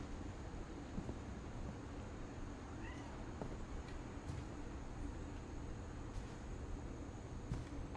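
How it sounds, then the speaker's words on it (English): Faint cat meows in What Remains of Edith Finch, one or two brief, distant mews in a quiet ambient game scene. "I heard a cat."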